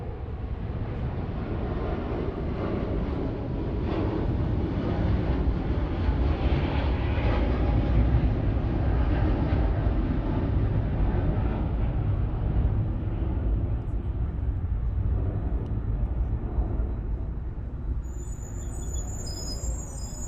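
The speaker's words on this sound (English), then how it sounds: "Very nice takeoff and very nice sound from those General Electric GE90s." Cathay Pacific Boeing 777-300ER with General Electric GE90 engines taking off at Los Angeles International Airport, a loud, sustained broadband jet roar that holds steady for the whole stretch and eases only slightly toward the end.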